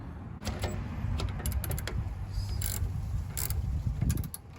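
A nut is threaded back onto a sway bar link on a 2020 Dodge Durango R/T during a lowering-spring install, making rapid, irregular ratchet clicks close up over a constant mechanical rattle.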